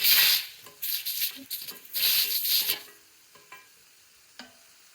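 Crushed green chilli, ginger and garlic frying for a crab roast: loud bursts of hissing sizzle and vigorous stirring in the pan, close up, fading to quieter crackles and occasional taps toward the end, with no speech.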